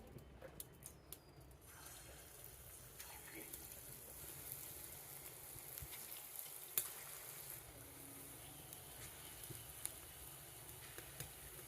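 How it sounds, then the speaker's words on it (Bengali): Mung dal fritters fry in hot white oil in a kadai, giving a faint, continuous sizzle with occasional small crackles and light clinks. "তেল গরম হয়েছে, এবার বড়াগুলো ভেজে নেব।"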